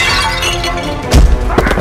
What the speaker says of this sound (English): Batman pushed them into paintings and smashed vases over them.